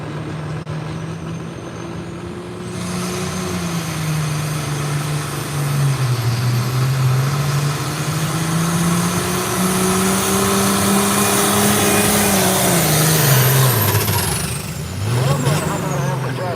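Turbocharged diesel truck at a Virginia truck pull making 700 to 800 horsepower, a loud sustained engine roar with rising and falling pitch and a high turbo whine under crowd noise.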